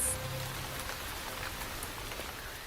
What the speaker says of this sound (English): It hasn't rained since May, but the skies are darkening. The drought is about to break.